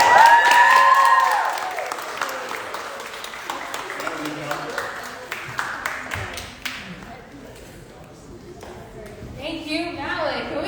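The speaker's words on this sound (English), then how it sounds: "Can we get another round of applause for him?" A crowd claps steadily at a poetry and tea event, the applause fading somewhat midway and then picking up again, with a few scattered louder claps and some voices.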